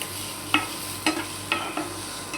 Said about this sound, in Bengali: আমাদের পেঁয়াজটাকে ভাজতে হবে